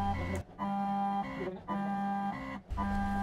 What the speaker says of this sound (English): The machine is essentially just milling in the air.